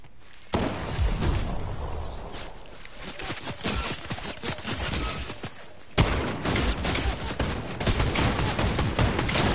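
Fortnite gunshots in a winter-themed match, loud rapid bursts of shots and impacts firing almost continuously after a short quiet opening, with a sharp fresh volley near the middle.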